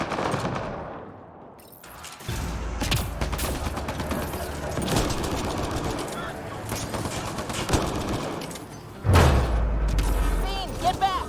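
Turrets firing on enemies in Mass Effect Andromeda: rapid bursts of automatic gunfire and thudding booms, loud and almost continuous after a brief lull, with a heavier blast near the end and voices speaking under the battle.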